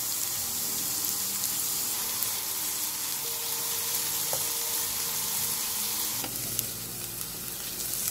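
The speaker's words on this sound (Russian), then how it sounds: "вливаю в нее пару столовых ложек растительного масла и буду обжаривать лук" Onion frying in vegetable oil in a pan makes a continuous, dense sizzle with steady crackling. The sizzle stays loud and close throughout, a stir or scrape comes near the end, and no one speaks.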